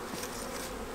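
Honey bees buzzing during an August hive inspection, a faint continuous hum and drone of many insects close by for about a second.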